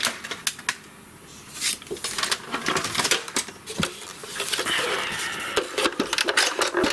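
A paper trimmer cuts green cardstock to card-front size, giving a run of sharp clicks and dry scraping strokes close by, with no talking.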